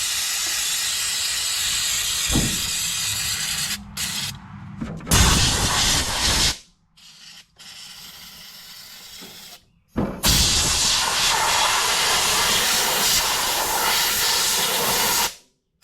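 Carburetor cleaner sprayed onto the linkage of a John Deere X530 lawn tractor: several loud, close aerosol bursts of hissing spray, separated by short pauses and ending in one long sustained blast.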